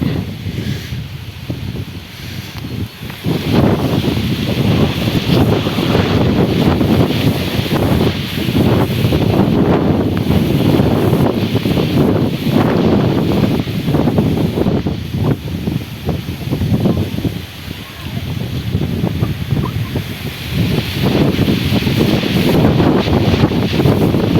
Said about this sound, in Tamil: காற்று தான் விசு விசுன்னு பயங்கரமாக அடிக்குது.